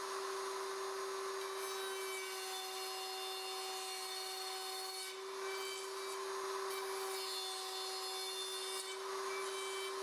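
A router with a guide bushing cuts 3/4-inch box joints in a wooden board through a Leigh RTJ400 template, giving a steady, loud motor whine with a constant pitch and rough cutting noise for the whole stretch.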